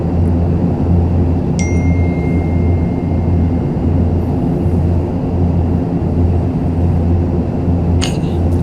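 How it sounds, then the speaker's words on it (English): Two short electronic dings chime inside an ATR 72 flight simulator cockpit, one early and one near the end, over a loud continuous engine and air drone, with no talking. "Sorry about the dings"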